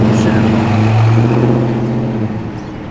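Boosted car approaching from behind an SS Commodore at a rainy car show, a loud steady engine drone with a rising tone that holds close, then eases off near the end.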